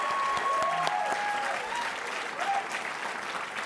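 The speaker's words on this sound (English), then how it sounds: "Please give her a round of applause." Audience at a university lecture event applauding, a moderate, even patter of clapping heard from within the hall, with faint voices and a few brief tonal sounds mixed in.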